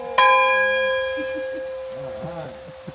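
An old schoolhouse bell out front at Black Moshannon State Park struck once, a loud clear clang ringing out and slowly fading, with soft voices murmuring in the background as it decays.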